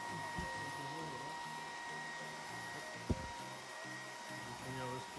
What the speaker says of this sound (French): L'aspirateur, ça va, il n'est pas trop bruyant comparé à d'autres aspirateurs de ce style que j'ai pu tester.